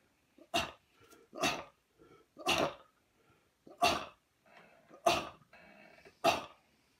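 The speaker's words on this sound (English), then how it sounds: "this cough is killing me" Six harsh, separate coughs spaced about a second apart, close and fairly loud, with quiet gaps between them.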